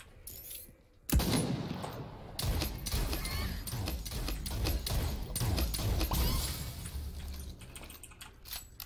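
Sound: gunshots in the video game Realm Royale

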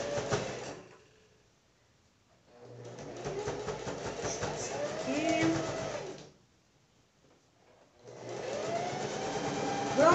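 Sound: domestic sewing machine stitching a thick seam

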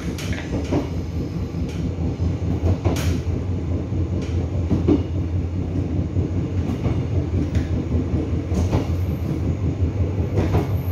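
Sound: Gyeongbuk Line passenger train running, Gimcheon to Yecheon

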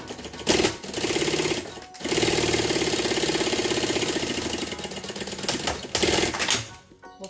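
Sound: sewing machine stitching a fabric edge finish

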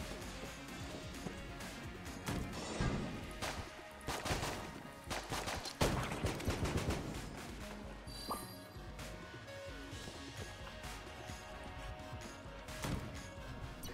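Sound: gunfire from a single-shot gun in video game Enter the Gungeon

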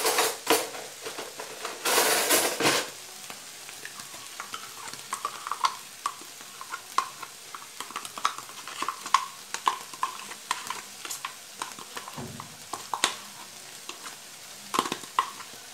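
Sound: stirring yogurt and triangle cheese filling mixture

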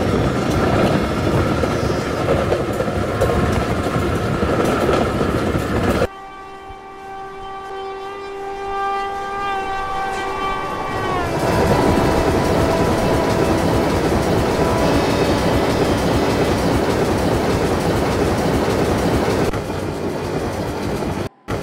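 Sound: train running on rails in an Indian train simulator video game

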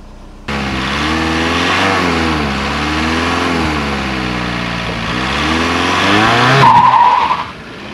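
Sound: VW TDI ALH diesel car driving off after injector upgrade

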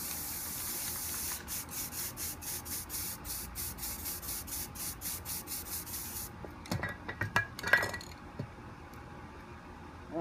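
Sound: spray paint can spraying

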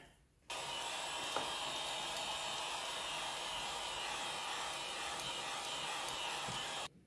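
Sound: heat gun blowing

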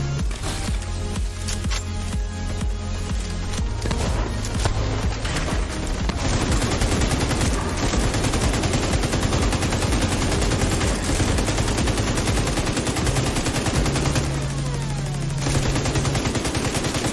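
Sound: gunfire at a turret in video game The Division 2

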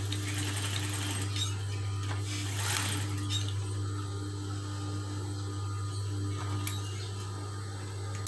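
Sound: sewing machine stitching a cloth face mask

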